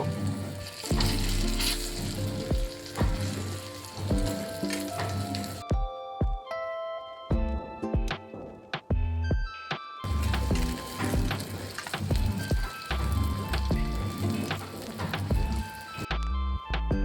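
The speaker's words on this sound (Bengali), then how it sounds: "অপর পিঠটাও সেম গোল্ডেন ব্রাউন করে ভেজে নেব।" Eggplant slices fry in hot oil with a steady bright sizzle and crackle, interrupted by a short quieter stretch before the sizzling resumes at full strength; background music plays throughout.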